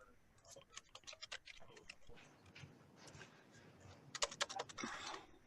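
Typing on a computer keyboard during a webinar, quick bursts of close key clicks that pause and then resume with a faster flurry of taps, with faint talk in the background.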